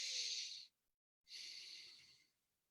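A person breathing slowly in and out as part of a relaxation exercise, with two long, soft, airy breaths separated by a brief pause, close and quiet with no talking.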